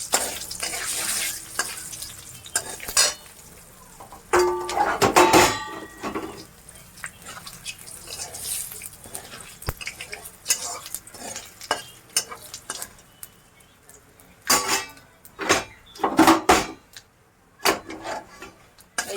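Panch phoron whole spices frying in hot oil and being stirred in a pan, with crackling sizzle and several bursts of loud scraping stir strokes spread through, close and alone with no talk.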